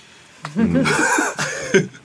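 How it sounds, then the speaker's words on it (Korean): Coughing bursts from a man in a lively studio game-show setting, a couple of sharp throaty hacks at close range, with a dense vocal quality that blends into voiced sounds between them. "정말 왜 갑자기 기침해요?"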